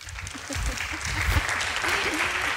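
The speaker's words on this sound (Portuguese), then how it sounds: "o vosso aplauso para Rosa Montero." Audience applause for a guest writer at a literary event in Castelo Branco, Portugal: dense, steady clapping from a seated crowd that holds at an even level for nearly three seconds, with faint voices mixed in.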